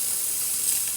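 A Quick Mill Anita espresso machine with a dedicated steam boiler, at about 1.3 bar, vents dry steam through its two-hole steam wand in a steady, loud, close hiss.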